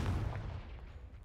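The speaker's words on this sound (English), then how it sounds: "we're gonna blow it up with some good old Confringo" A Confringo fire spell blasting an obstruction in Hogwarts Legacy, a deep low boom that starts loud and rolls off into a fading rumble over about a second.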